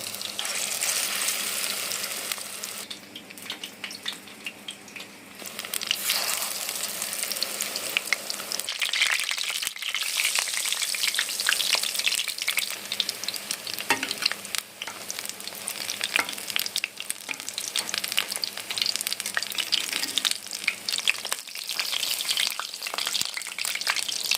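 Pumpkin flower fritters fry in hot oil, giving a steady, close sizzle with crackling and stirring scrapes that runs without a break and has no talk.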